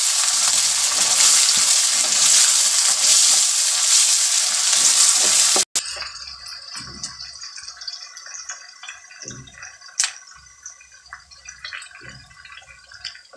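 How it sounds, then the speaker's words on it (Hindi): Mutton pieces frying in a pan for a gobi gosht curry, a loud steady sizzle that cuts off abruptly, then quieter crackling, stirring and scraping sounds. "पाँच मिनट तक गोश्त को भूनेंगे।"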